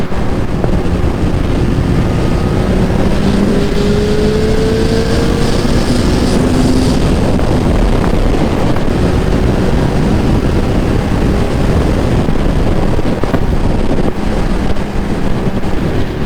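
A Suzuki Hayabusa GSX1300R motorcycle on an onboard test ride gives a steady low engine drone under heavy, constant wind rush, with a faint rising tone partway through and no talking.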